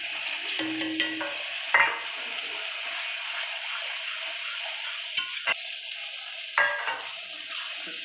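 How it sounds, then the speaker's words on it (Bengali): A spice paste of tomato and radhuni powder fries in a pan for a folui fish curry, giving a close, steady sizzle broken by a few scraping stirring strokes, with no talking. "মশলাটা আমার কষানো হয়ে গেছে"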